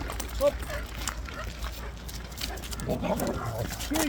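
Kangal dog barking and yipping outdoors, a few short sharp barks scattered among steady background noise, with people talking throughout.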